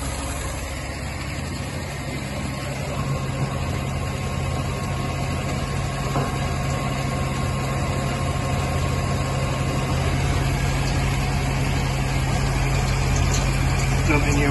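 A Humber Super Snipe car engine runs steadily after a rescue, a continuous low idling drone holding even throughout with faint background noise.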